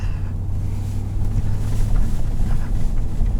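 A 2020 Ford F-250 Super Duty Tremor with the 7.3-litre V8 engine while driving, a steady low engine drone and rumble heard from inside the cab, with road and wind noise over it.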